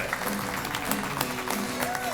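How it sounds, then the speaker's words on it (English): Brief, steady applause fills a breakfast event room for the 2022 Owensboro cast of Dancing with Our Stars. The clapping is a dense, even wash throughout, with a faint voice mixed in. "So a big round of applause for the 2022 cast of Dancing with Our Stars, the Owensboro edition."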